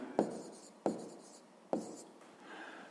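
Pen on paper writing out a sixth-grade math answer, three distinct scratchy strokes each with a sharp onset and fading tail, close and soft, followed by faint rubbing with no talking.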